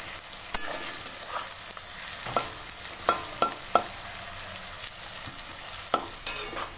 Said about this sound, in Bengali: আমার বেরেস্তাটা ভাজা হয়ে গেছে